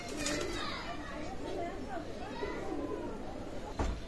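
Pakistani teddy and Kamagar pigeons in a pigeon loft give soft, low coos beneath steady nearby talk, with children's voices and other bird sounds mixed in.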